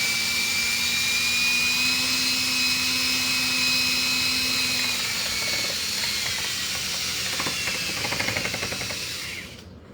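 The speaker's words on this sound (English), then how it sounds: "he uses the drill mixer instead of mixing it by hand" A handheld drill mixer stirring a batch of concrete gives a steady, loud whirring drone that shifts pitch partway through, then winds down and fades out at the end. No one speaks.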